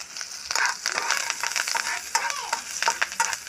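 Green chillies and curry leaves sizzle and crackle in hot oil while being stirred, a close, steady frying hiss with scraping stir strokes, cooked for cauliflower 65.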